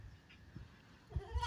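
A male goat gives a faint, brief bleat on a Nigerian farm, heard at a distance among quiet outdoor background noise.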